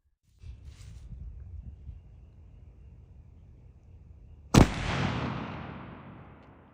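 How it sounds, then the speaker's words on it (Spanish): A single loud gunshot cracks suddenly after a stretch of low rumble, followed by a long reverberant decay. "¿Te gustó un poco más ese segundo disparo,"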